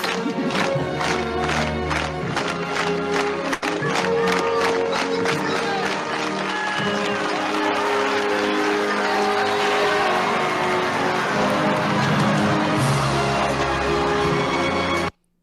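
Slow-clap scene from the Disney film Cool Runnings, with dense crowd noise and swelling cheers over a music score, steady hand claps building throughout, loud and continuous until a sudden cutoff near the end.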